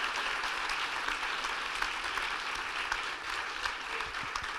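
Steady applause from an audience at the close of a student-organised debate with an invited speaker, a dense even wash of clapping lasting throughout with faint voices underneath.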